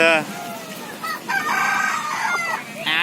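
A hen clucks and squawks close by in a house yard, sharp repeated calls in quick bursts, loud and alone with no talk over them.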